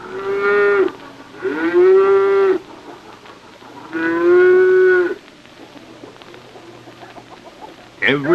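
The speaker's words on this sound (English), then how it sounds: "Every morning at 5:30, my daughter Margaret milks 5 cows." Dairy cows on a farm moo loudly, three long drawn-out calls with pauses between, and a brief bird cluck at the end.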